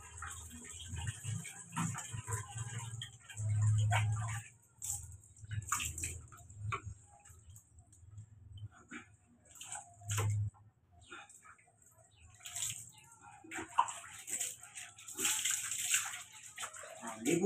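Water sloshes and splashes in intermittent bursts while a dog named Summer, a large four-year-old, is bathed at home, with quiet background noises between the splashes.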